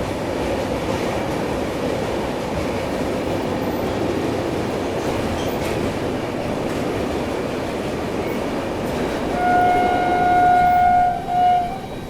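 Rajdhani Express on India's longest route running at speed, a loud steady roar of wheels and rattling coaches from inside, with a tonal horn and a swell near the end as another train passes alongside.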